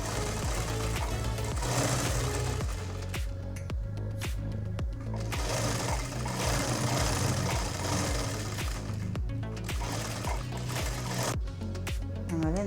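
A sewing machine stitches a summer night gown in long bursts of rapid mechanical chatter, close and steady, pausing briefly between runs.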